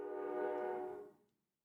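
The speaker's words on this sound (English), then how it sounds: "that train is loud" A passing train sounds a loud, sustained horn for about a second; the tone holds steady and then fades away quickly into silence.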